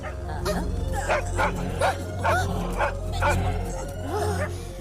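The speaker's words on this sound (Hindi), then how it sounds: "वो कुत्ता वो बंदे को खा रहा है।" A puppy barks and yips repeatedly in short bursts, with whimpering yelps mixed in, over a steady low background hum in a comedy film scene.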